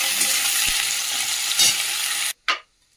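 Potatoes and onion fry in a pan with a loud, close, steady sizzle and a couple of scraping stirs. After about two seconds the sizzle cuts off abruptly, followed by one short hiss and then quiet.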